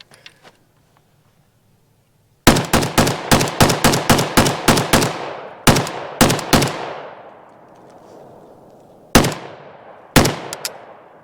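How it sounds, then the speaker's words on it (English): Firearm shots at an outdoor shooting range: a fast string of about a dozen loud, close reports with ringing echo, then a few spaced single shots after short pauses. "Go ahead and shoot it."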